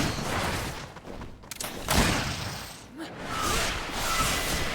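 Gunfire in the PC video game Greedfall: a few booming shots and bursts in a dense, loud game mix, with sharp hits around the middle and continuous rumbling combat noise throughout.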